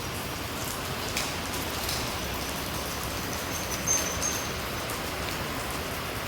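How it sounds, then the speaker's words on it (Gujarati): Light drizzle falls steadily in a rural Gujarat village, a soft even hiss of fine raindrops on surfaces with no voices, continuous and moderately faint throughout. "ઝીણો ઝીણો વરસાદ પડે છે"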